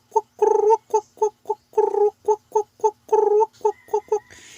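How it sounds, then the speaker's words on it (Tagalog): Repeated loud, close calls of the kuruakwak bird recorded right at its nest, a riverside and canal-foraging bird, sounding as a rapid series of about a dozen harsh, gobbling croaks in quick bursts, alone without talk. "Ibon na tinatawag na kuruakwak."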